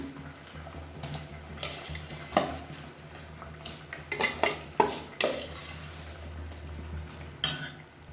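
Soaked rice tipped into a pot of boiling water for chicken biryani, followed by a metal spoon scraping and clanking against the pot in several close, sharp bursts over steady bubbling.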